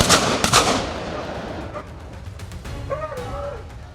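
Rifle shots fired in quick succession at a charging group of wild boars on open grassland, two loud sharp blasts close together at the start, then a fading tail with faint animal-like whines.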